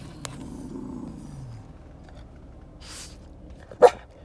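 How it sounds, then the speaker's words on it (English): A single sharp dog bark near the end, after a few seconds of quiet low background noise. "What are you barking at? The construction guy?"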